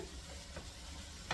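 A beef liver masala is stirred and fried in a pan, with a low steady sizzle. Soft scraping strokes run through it, and one sharper clink comes near the end.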